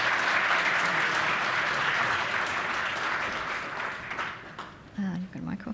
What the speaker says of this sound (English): please give all of the people that pitched today one more welcome round of applause